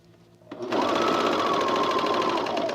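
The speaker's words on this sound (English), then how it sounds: "I'm gonna sew for a bit" A sewing machine stitching a raglan shirt starts after a brief pause and then runs in a fast, steady whir, close and loud.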